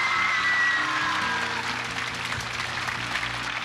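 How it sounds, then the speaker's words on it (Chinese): A studio audience on a Taiwanese variety show claps steadily for Jet Li, a dense wash of applause filling the room with faint crowd noise beneath and no clear screaming. "李连杰大概觉得掌声跟尖叫都不够热烈"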